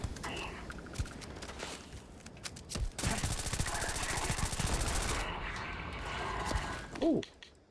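Sustained hip-fire from an SMG in Starfield, a long, dense automatic burst with mechanical clicks around it, loud and near, with some game noise before and after.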